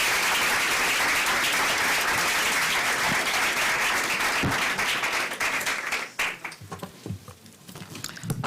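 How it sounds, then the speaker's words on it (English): Loud, sustained applause from a crowd, dense clapping that thins out toward the end with a few scattered claps. "Let's give her a round of applause, please."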